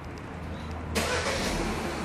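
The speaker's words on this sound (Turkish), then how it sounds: "Çalıştırın arabayı." A Peugeot 3008 engine cranks and catches about a second in, then settles into a steady, close idle hum with a broad hiss of running noise; no talk.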